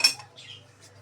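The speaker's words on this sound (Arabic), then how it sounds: "نخلط بالسباتي." A spatula scrapes and taps against a bowl while cake batter is mixed with chopped dates and ground almonds, a few short clinking strokes, close and clear with no talking.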